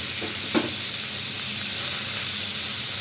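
Sweet pumpkin dropped into frying dal for a vegetarian curry, a steady loud hiss of sizzling oil with a brief clatter as the pieces go in.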